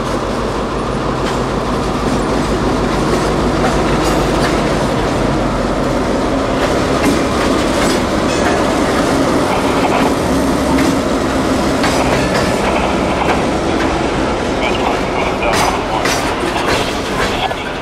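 Norfolk Southern freight switcher locomotive moving through a rail yard, giving a steady loud rumble with clanking railcar noise and faint wheel clatter throughout, no voices.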